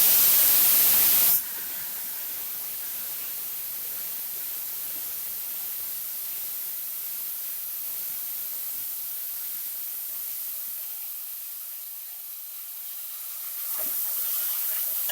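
Tomatoes fry in a pan over a low flame with masala spices for chicken biryani, giving a steady close sizzling hiss that starts with a loud burst, settles to an even level and swells again near the end. No one speaks.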